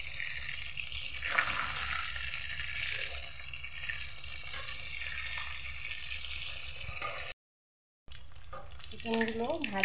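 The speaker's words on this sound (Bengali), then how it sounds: "ভালোভাবে উল্টে পাল্টে ভেজে নেব।" Chicken pieces frying in oil for chilli chicken, a steady close sizzle with occasional stirring and turning sounds, briefly cut to silence near the end, then water running faintly.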